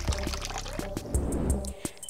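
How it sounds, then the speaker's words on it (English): Hot water is poured from a small cup while preparing to dip braid ends, a close splashing trickle with soft knocks and gurgles over a short stretch, nearby and without talk. "I'm gonna use my little wifey cup to pour my hot water in to dip my ends"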